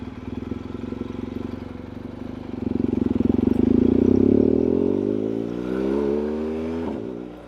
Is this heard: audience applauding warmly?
no